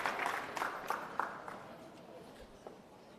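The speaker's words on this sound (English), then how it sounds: "Let's give her a round of applause." A small audience at a forum gives a brief round of applause, scattered distinct claps that start fairly strong and quickly thin out and fade.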